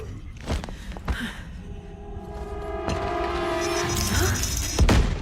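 Explosions in the video game The First Descendant: several dull, broadband thumps at irregular intervals over a busy bed of game sound, with a heavier blast near the end.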